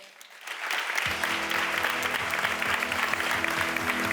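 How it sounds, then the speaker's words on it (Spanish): Audience applause at a workers' gala fills the hall, a dense, steady wash of many hands clapping from near and far, with a low sustained background tone running beneath it after the first second. "Un aplauso, por favor."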